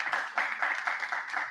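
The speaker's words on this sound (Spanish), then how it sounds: "fuerte el aplauso a Jesús" A congregation applauds in bursts during a church ministry class, a fairly even patter of clapping hands heard at moderate distance without speech.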